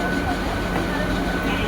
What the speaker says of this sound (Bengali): এই সবে ট্রেনটা ছাড়লো।